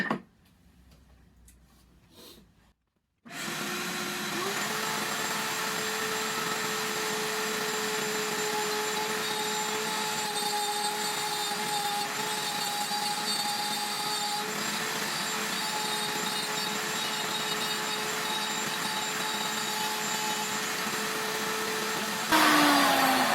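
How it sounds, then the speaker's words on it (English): A wood router cuts grooves for box joints, a steady loud whine holding for about twenty seconds after a brief quiet start, then ending abruptly. "After cutting all the grooves with the router"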